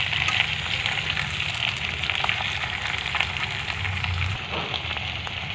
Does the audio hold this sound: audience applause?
no